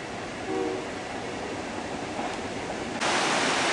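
Freight train rolling through the Fraser Canyon beside the Fraser River, a steady loud rumbling roar throughout that grows louder toward the end, with a faint horn-like tone briefly early on.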